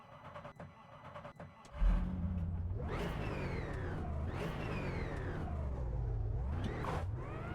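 A Mercedes GT4 race car engine in the racing game Automobilista 2 starts low then climbs through rising revs, shifting gears repeatedly with loud sweeping pitch climbs, close and continuous.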